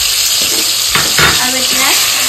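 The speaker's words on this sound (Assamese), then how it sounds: "এয়া সৰিয়খিনি ধুনিয়াকৈ ভাজি আছো" Half a cup of mustard seeds fry in a pan over a low gas flame, producing a loud, continuous sizzle broken by a few stirring scrapes close by.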